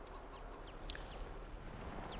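Chickens cluck in Farming Simulator 22, a steady farmyard chorus of short clucks and chirps over a constant ambient hum, with no talking.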